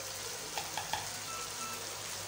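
Chicken and curd fry in oil for gobhi gosht, making a faint, steady sizzle with a few soft stirring clicks near the start.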